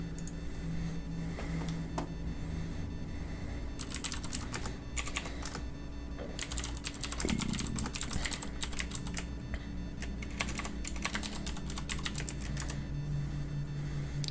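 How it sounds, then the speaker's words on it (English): Fast bursts of clacky keystrokes on a mechanical keyboard, recorded close, come in irregular clusters with short pauses over a faint steady background hum. "you're gonna hear a lot of my clacka from the mechanical keyboard here"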